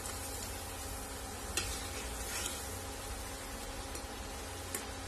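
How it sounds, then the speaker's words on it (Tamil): Coated potato French fries deep-fry in oil over a medium-high flame with a soft, steady bubbling sizzle, dotted with a few faint clinks and stirs and no speech. "இது வந்துட்டு மீடியம் டு ஹை ஃபிளேம்ல வச்சு நீங்க பொரிச்சுக்கலாம்."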